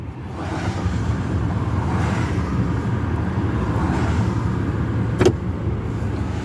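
A car speeds past on a road at roughly 80 mph, heard as a loud, steady rush of road and engine noise throughout, with one sharp click near the end.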